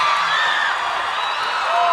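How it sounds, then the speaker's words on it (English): Crowd cheering and whooping in a gym after a great block during a girls' high school basketball county final, a steady, bright roar of many voices holding for two seconds without any speaker. "And that'll get the crowd excited."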